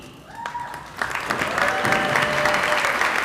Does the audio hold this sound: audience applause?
yes